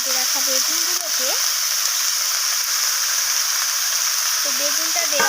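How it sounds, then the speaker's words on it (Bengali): Chopped eggplant, small shrimp, radish, kohlrabi and cauliflower stalks fry in a pan with a constant, close hissing sizzle, as someone speaks briefly at the start and again near the end. "বেগুনটা দেওয়ার পর আমি আবারও সব কিছুকে নাড়িয়ে চাড়িয়ে এইভাবে ভাজা করে নিচ্ছি।"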